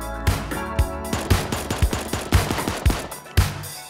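Rapid bursts of Thompson submachine gun fire in the Super Animal Royale video game, a steady run of sharp, loud shots about five per second, heard alone without talk.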